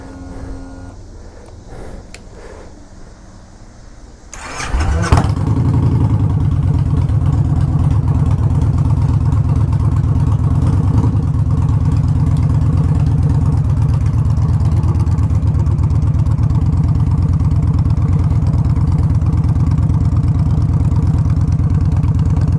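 A 2011 Victory High Ball bobber motorcycle starts after a few quiet seconds, then its engine runs at a loud, steady, throbbing idle right up close for the rest of the time.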